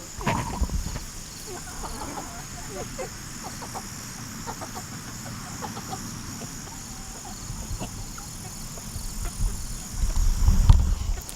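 Flock of about sixty meat chickens clucking softly in a yard, a steady low murmur of calls with a louder cluster near the end over a faint high insect drone.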